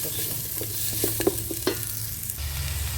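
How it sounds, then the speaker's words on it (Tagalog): Garlic and banana blossom sauté in a pan over a charcoal and wood fire, with a steady close sizzle and a few scraping stirs of a utensil, no voices. "atin ang iluluto o igigisa yung ating puso ng saging"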